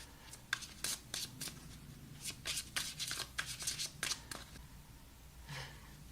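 Tarot cards being shuffled by hand, a quiet, close series of crisp riffling and sliding bursts in an uneven rhythm, with a few brief pauses between shuffles.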